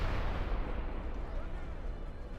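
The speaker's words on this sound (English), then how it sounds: "I want you to move those cannons a little closer" Cannon artillery in the strategy game Medieval II Total War sends up a dense, continuous rumbling barrage of booming blasts that fills the whole short stretch with no break.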